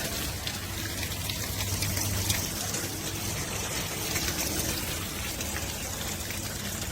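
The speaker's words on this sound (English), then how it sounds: "as soon as you put water to it, water starts pouring out the bottom, out the side." Water gushes and splashes steadily from the bottom and side of a Camplux portable tankless water heater, a loud continuous spattering flow with no pauses.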